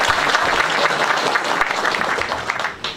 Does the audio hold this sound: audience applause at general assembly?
yes